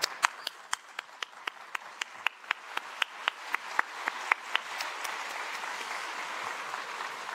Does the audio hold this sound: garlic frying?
no